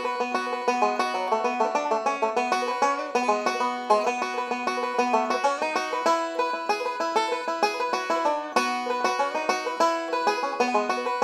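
Bright, rapid bluegrass banjo picking, continuous rolling backup licks at an even tempo, clear and close, with no voices.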